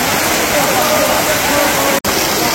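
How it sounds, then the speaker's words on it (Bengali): Heavy rain pouring at a village market, a loud dense wash of falling water with a brief dropout near the end. "খুব বৃষ্টি নামছে"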